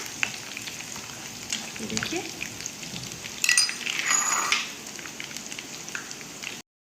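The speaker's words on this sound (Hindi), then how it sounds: "हमारा लहसुन फ्राई हो रहा है।" Steady oil sizzle of garlic frying in a pan over low flame, with a brief clink of a utensil midway; no talking.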